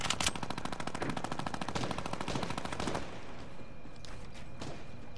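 Rapid bursts of hunting rifle fire in Fortnite crackle through the first three seconds, fairly loud and close, then give way to quieter scattered game sounds and a few isolated pops.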